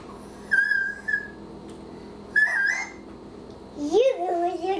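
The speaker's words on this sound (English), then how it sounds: "can you whistle?" A child whistles a few short, thin tones near the mic, with a pause between attempts, followed by a wavering, sliding higher whistle at the end; light background noise throughout.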